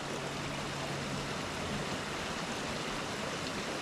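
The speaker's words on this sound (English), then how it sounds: "They don't want you crossing this dangerous river." Dangerous river flowing steadily beside a hiking trail detour, a constant broadband rush of water that stays loud and even throughout, with no voices.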